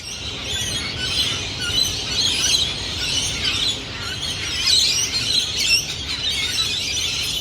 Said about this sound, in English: The final bird sound that I shared at the beginning of the episode was that of rainbow lorikeets